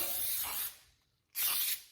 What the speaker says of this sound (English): you can either do like a generous spray